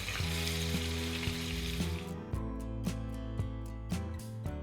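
Steady, close sizzling of red fish frying in hot oil until golden, with a few soft clinks and stirring sounds, no voices.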